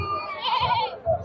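Black Bengal goats at a busy village goat market let out a short wavering bleat, close by, with a faint crowd murmur underneath.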